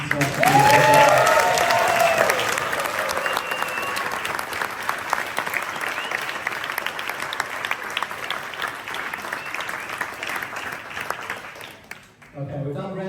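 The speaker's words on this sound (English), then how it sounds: "please have a big round of applause for everyone who's contributed tonight" Loud applause from an audience, dense clapping that slowly fades out near the end, with a voice faintly audible underneath.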